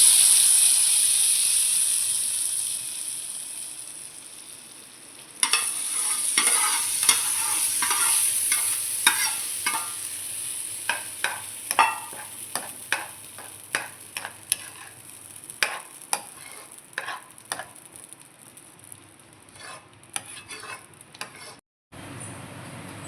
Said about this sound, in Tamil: இப்போ தாளிப்பை கொட்டிக்கலாம்